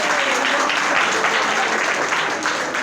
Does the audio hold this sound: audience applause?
yes